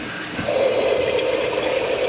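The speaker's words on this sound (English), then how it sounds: "And then you get a nice gentle spray of water again. Cold water." Gentle spray of cold tap water onto bean sprouts in a jar with a pantyhose mesh lid, a steady close hiss of running water starting after a brief moment and continuing evenly.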